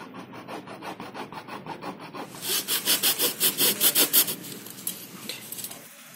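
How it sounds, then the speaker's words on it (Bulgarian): A hacksaw cuts through a 6 cm thick slab of EVA foam in rhythmic back-and-forth strokes that grow louder and faster midway before trailing off. The sawing is close and heard alone. "И сега ще се опитам да видя дали мога да го режа с ножовка всъщност или не."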